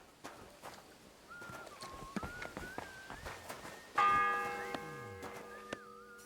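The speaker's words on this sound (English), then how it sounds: "The bell's ringing for hands the 5th time." Church bell in Kingdom Come: Deliverance 2 striking once with a bright ringing tone that sustains and decays, following quiet footsteps and soft ambient village sounds.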